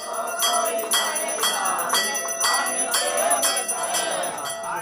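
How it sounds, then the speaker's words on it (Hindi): A temple bell in the Hauz Qazi area of Old Delhi is struck repeatedly in a quick, regular rhythm, each loud metallic clang ringing close over a faint background murmur. "घंटी बज रही है"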